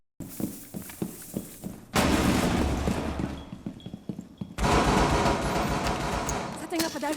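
Gunfire from Alibi's gun in a video game rings out in loud bursts, with dense sustained volleys from about two seconds onward and sharper single shots early on, continuing close and heavy to the end.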